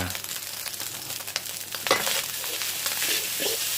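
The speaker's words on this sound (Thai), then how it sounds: "เราผัดไปเรื่อย ๆ เพื่อให้น้ำมันระเหยไปได้มากที่สุดครับ" Ham fried rice with sliced spring onion is stir-fried in a pan. A close, continuous sizzle mixes with spatula scrapes and a couple of sharper knocks against the pan.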